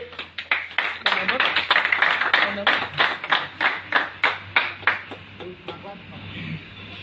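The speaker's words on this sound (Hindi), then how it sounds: "जोरदार तालियां" Audience clapping at a cricket club's annual awards show, a sharp, loud, rhythmic series of distinct claps in steady time that fades out toward the end, with a low electrical hum underneath.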